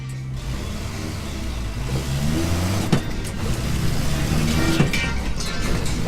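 Toyota-powered Willys jeep accelerating through the gears, engine note rising steadily under load with a gear change midway, loud and close from inside the vehicle, with no talking over it.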